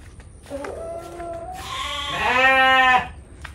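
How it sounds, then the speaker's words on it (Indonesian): Goats on an Indonesian smallholding bleat in a drawn-out, wavering call that rises into a louder, strained cry near the end, heard close against quiet farmyard background. "Semuanya kambing"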